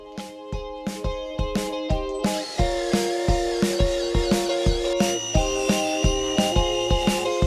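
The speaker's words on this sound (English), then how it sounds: "drill out just the first sheet of metal and not affect the second sheet" A power drill bores out spot welds in Mitsubishi Lancer Evolution 8 sheet metal. The motor whines steadily, and a rapid series of regular sharp ticks and bites runs throughout, close and fairly loud, with no talking.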